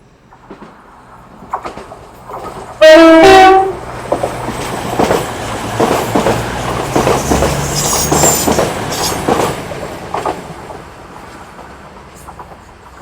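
A Class 180 diesel multiple unit in Train Simulator gives a loud two-tone horn blast, followed by a rumbling diesel engine and rhythmic clickety-clack of wheels over rail joints, close and steady before fading slightly.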